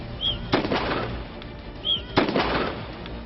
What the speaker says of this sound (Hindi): फटाफट पोजीशन लेकर फायरिंग की कार्रवाई